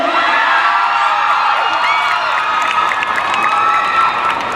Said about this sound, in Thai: ขอให้ทุกคนที่นี่ส่งเสียงกรี๊ดให้กับน้องๆที่มาประกวด